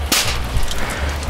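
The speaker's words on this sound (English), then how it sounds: "That popping sound you're hearing is the moisture being driven out of this wood." Wood blocks soaking in hot paraffin for homemade fire starters give off steady sizzling and crackling, with a sharp pop near the start as moisture is driven out, heard up close with no talking.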